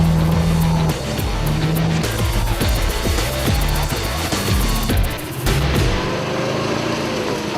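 A 4x4 off-road vehicle heads down a rocky trail with its engine droning and revving loudly and close throughout, shifting pitch as it works over the ground.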